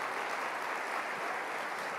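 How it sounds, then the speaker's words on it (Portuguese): A church congregation applauds during a sermon in Portuguese, a steady wash of clapping at moderate level that continues evenly for the whole stretch. "dá uma salva de palmas para a palavra de Deus"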